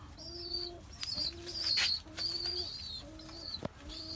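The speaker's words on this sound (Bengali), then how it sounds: "এটা হচ্ছে লাক্ষা কবুতর" Lakka pigeons coo in a steady, repeating rhythm close by, with soft chirps and a brief flutter mixed in; no talking.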